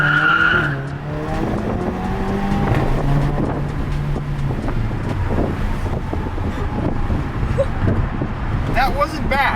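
A Volkswagen GTI accelerates hard across a bridge, its engine and exhaust rising in pitch through the gears under steady road and wind roar, with a voice talking over it.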